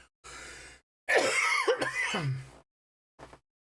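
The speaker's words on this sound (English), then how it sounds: "I've had a cough all week." A person coughs in a few harsh, close bursts with throat clearing, separated by short silences, ending with one small cough.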